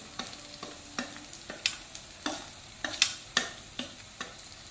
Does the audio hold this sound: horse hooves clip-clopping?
no